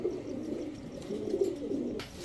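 Racer pigeons coo close by in low, throaty, rolling phrases, heard alone without talk for a couple of seconds before a brief clatter at the end.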